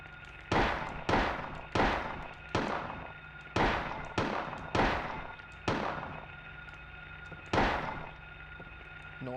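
About nine loud, booming gunshots in the survival horror video game Silent Hill, fired at an irregular pace with gaps of roughly half a second to two seconds, each one ringing out and fading. No voices are heard.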